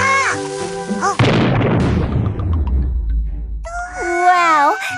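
A cartoon cannon fires with a loud booming blast that rumbles and decays over about two seconds, between bright cartoon voices and music that come before and after it.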